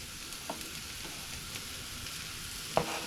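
Portobello mushrooms added to a hot pan while cooking a steak topper with shallots and brandy, giving a steady, soft frying sizzle throughout with a few small clatters and one sharper clink near the end.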